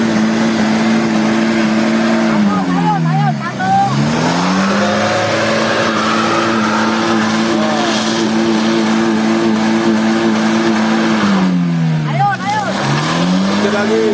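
A car engine stuck on a slippery red-dirt road in the rainy season drones loudly and steadily, its pitch dipping and rising twice as it revs, while people talk and shout nearby.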